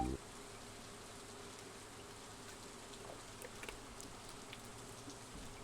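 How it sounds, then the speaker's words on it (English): Soft rain ambience in the farming video game Stardew Valley, a faint, even hiss of falling drops with light patter, steady and unbroken throughout. "Just taking a stroll and enjoying the rain."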